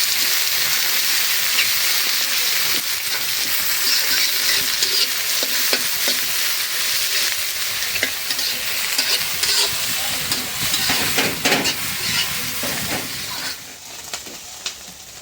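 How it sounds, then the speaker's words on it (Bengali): Dried fish frying in a pan sizzles loudly and close up, a continuous crackling hiss broken by frequent clatters and scrapes of stirring, easing off toward the end with no talk. "দিয়ে দিলাম শুটকি মাছ। একটু ভাজবে না চলো।"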